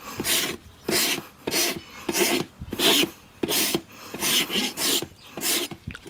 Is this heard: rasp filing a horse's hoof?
yes